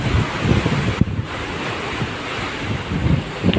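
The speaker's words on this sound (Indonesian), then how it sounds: "Ini perkiraan gelombang 2 meter ke atas dan kecepatan angin benar-benar cepat ya." Large waves of around two metres and strong wind rushing over a passenger ship's deck at night at sea, a steady loud roar of surf and wind buffeting the microphone, with a brief gust peak and no talk.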